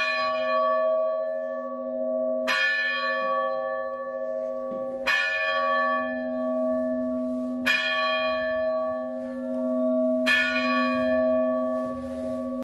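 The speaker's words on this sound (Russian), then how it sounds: "заказали им колокола, вот они нам вылили из 12 колоколов" Newly cast church bells from a bell foundry ring out loud and clear, struck in a steady rhythm about every two and a half seconds, each stroke leaving a long, shimmering hum that fades into the next.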